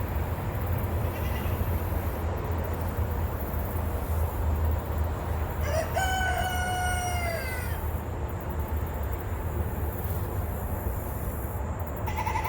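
Copper Marans chickens cluck and call against a steady outdoor hum, with a rising crow-like call partway through and scattered bird sounds.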